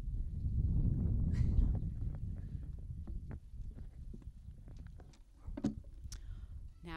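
Blustery wind buffets the microphone with heavy low rumble, strongest at the start, with scattered knocks and faint rustling throughout, outdoors at a middle school graduation ceremony.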